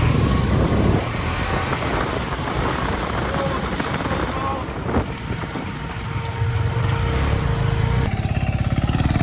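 A TVS XL moped rides along a road, its small engine buzzing amid traffic and wind noise, with people talking over it and the motor note rising toward the end.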